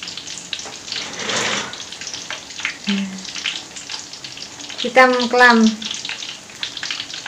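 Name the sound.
frying tempe in oil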